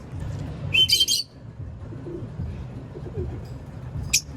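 A racing pigeon arrives at its loft: birds chirp briefly in short high bursts, with a low rustle of wings and faint cooing underneath, fairly near outdoors.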